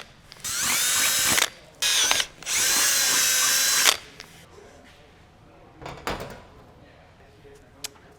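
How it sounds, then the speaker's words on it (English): A drill runs in three close, loud bursts, whirring through a Fox Body Mustang's rear wing area, followed by quieter clicks and handling noises. "go ahead and take your drill bit and put some holes in this baby."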